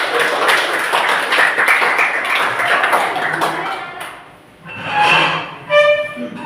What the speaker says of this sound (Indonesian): Ya, tepuk tangan dulu anak-anak.